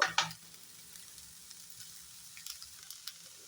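Onions are stirred and fried in a pan, giving a soft steady sizzle with faint scraping stir sounds and a brief louder clatter at the start, quiet and close.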